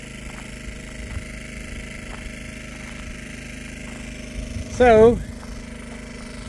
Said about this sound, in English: I got the generator going